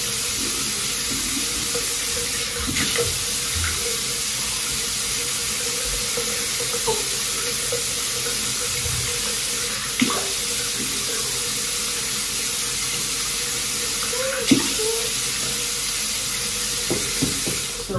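Steady running water from a tap or sprayer wetting a one-year-old child's hair, a continuous hiss close by with occasional splashes and light knocks throughout.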